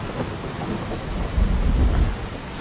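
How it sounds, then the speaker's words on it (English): Steady rain hiss with deep thunder rumbling low underneath, swelling louder midway, with no voices. "Got some rain, we've got some thunder."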